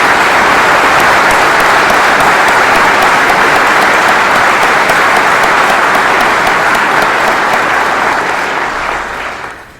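A seated audience at a retirement ceremony for a brigadier general gives a sustained, loud round of steady applause that fills the space evenly, then tapers off at the very end.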